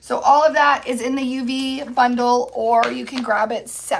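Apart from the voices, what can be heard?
None of the usual background noises is heard.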